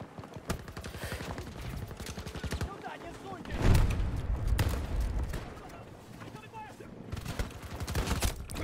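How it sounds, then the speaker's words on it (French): Shotgun blasts in Battlefield 2042, played on the Rush mode as the Mackay specialist, sound as a burst of heavy shots mixed with game noise and a player talking over it. "Non, j'ai tiré. Je lui ai tiré dessus."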